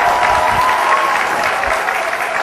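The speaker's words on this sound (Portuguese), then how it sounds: "that applause was very weak" Applause from a business seminar audience: a brief burst of many hands clapping, loud and dense at first, then tapering slightly toward the end.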